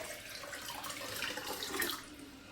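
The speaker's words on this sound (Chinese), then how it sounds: "往锅中倒入1300毫升清水" Clean water, 1300 ml of it, pours steadily into a cooking pot as a continuous, fairly loud splashing rush that barely varies across the short span.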